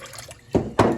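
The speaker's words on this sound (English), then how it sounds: "I'm washing my steak off right now" Steak being rinsed under a running kitchen tap: two short, close splashing gushes of water over the meat, with a quiet dribble in between.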